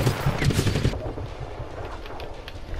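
Rapid gunfire in Just Cause 3, bursts fired into a petrol canister in a game, dense and loud at first, then a quieter rattle of continuing shots with faint background sound.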